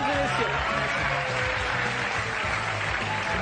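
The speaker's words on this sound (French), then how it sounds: "on applaudit Daniel, mesdames et messieurs" A theatre audience at a pickpocket stage show claps steadily for an assistant named Daniel, a dense, continuous wash of applause that stays at an even level from start to finish.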